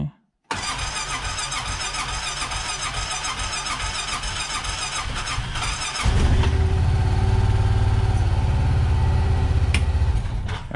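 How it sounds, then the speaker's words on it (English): A Honda Pioneer 700 UTV cranks over repeatedly from a cold start, then its engine catches at about six seconds and settles into a loud, steady idle close by. "So this is a cold start."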